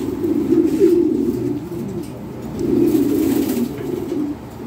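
Close, low cooing of Lahori Sherazi pigeons in two drawn-out bursts with a short pause between, throaty and rhythmic, no talking.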